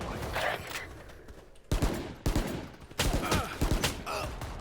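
Gunfire in a Valorant match comes in several sharp bursts of shots at moderate loudness. Background game ambience runs between the bursts and a voice talks faintly.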